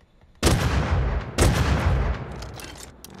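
Two heavy, booming blasts from a double-barrel shotgun in Rust, about a second apart, each loud and close with a long rumbling decay.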